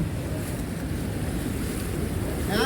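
Floodwater rushes with a steady roar and a broad, wind-blown wash, loud and continuous, during heavy rain, with a brief splashy swell at the end.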